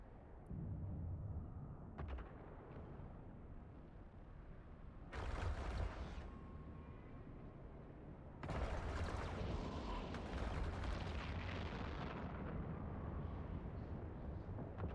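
Space combat explosions in EVE Online rumble as a continuous low roar, swelling in loud bursts around sharp onsets, fairly distant and muffled with no voices.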